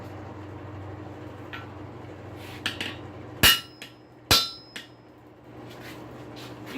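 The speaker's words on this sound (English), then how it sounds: "You can hear it bottom out on the anvil." A hammer drives a punch through metal resting on an anvil, giving a few sharp, ringing metallic strikes close by, separated by lighter taps and quiet pauses, with no talking.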